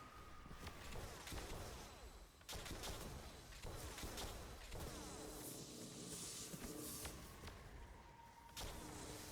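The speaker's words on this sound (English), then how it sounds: "I'm going to use this laser and I'm going to shoot over the boss's shield" Rapid bursts of laser weapon fire in Destiny 2, aimed past a boss's shield, crackle in quick succession amid whooshes and sharp impacts, loud and continuous with brief gaps between volleys.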